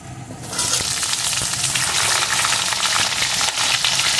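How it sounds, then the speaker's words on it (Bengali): Pumpkin and potatoes fry together in a pan, a loud, steady close sizzle that starts abruptly and holds evenly throughout, with no talking. "কুমড়োটাও আমি ভালো করে আলুর সাথে ভেজে নেব।"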